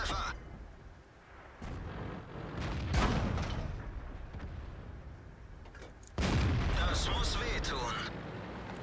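Tank cannon fire in World of Tanks, heavy booming shots with rumbling decay, one loud blast near the start of a louder stretch, mixed with engine noise and someone speaking German over it.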